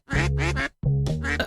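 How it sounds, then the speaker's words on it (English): A cartoonish duck in the video game Quack Quack gives two loud, close, nasal quacks in quick succession, separated by a brief pause, with no talk over them. "It sounds like Odysseus is quacking at me."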